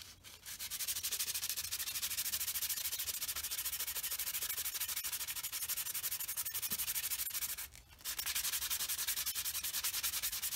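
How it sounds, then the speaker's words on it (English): A carved wooden spoon sanded by hand with 150 grit sandpaper, a loud continuous rasping scrub that keeps steady rhythm, briefly pausing once before resuming, close up with no talking. "I have my sandpaper here. This is the rough grit, the 150, and this, I will use this just to take off"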